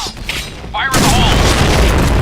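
A grenade blast in the video game Point Blank: a sudden heavy boom bursts in about a second after a short spoken call-out, followed by a sustained rumbling roar.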